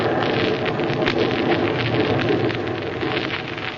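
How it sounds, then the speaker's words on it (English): Rain drumming on a roof as a radio-drama sound effect, a dense steady patter and hiss that holds at a constant level throughout, with no speech over it. "Listen to that rain on the roof."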